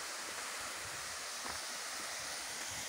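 Cascata de Sander waterfall in Três Coroas, where the cascade crosses the road, gives a constant, dense roar of falling water that stays loud and even throughout with no voices.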